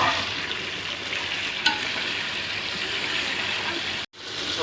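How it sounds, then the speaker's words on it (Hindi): Meat and garlic paste frying in hot oil for chicken korma give a steady, loud, close sizzle throughout, with a brief dropout near the end. "गोश्त को सफ़ेद होने तक तेल में तलना है।"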